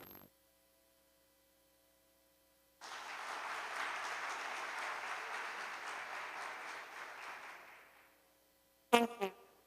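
An audience applauds at a forum on artificial intelligence, a dense wash of many hands clapping that swells, holds for about five seconds and fades out, bracketed by silence.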